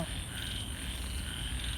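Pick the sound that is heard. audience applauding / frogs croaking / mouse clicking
frogs croaking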